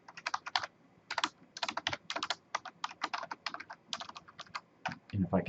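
Keys clatter on a computer keyboard as an OpenSSL command is typed, a quick, close run of crisp keystrokes in bursts with brief pauses, ending in a low thump.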